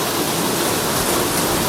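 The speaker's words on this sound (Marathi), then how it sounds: "पाऊस तर पडतोय वारा पण येतोय" Heavy rain pours in Mumbai with wind during the first big downpour, a dense, loud, steady hiss of water with no gaps and no voices.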